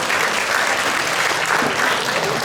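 Audience applause fills a founding ceremony for a volunteer group, a steady, dense clapping that carries on throughout without a break.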